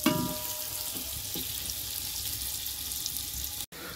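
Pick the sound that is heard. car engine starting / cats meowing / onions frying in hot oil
onions frying in hot oil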